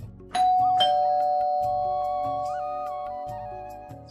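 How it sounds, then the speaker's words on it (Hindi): An electronic doorbell chimes indoors, two bright ding-dong tones struck in quick succession, then ringing on as a long sustained tone that slowly fades, clear and alone. "तभी अचानक डोरबेल बजती है"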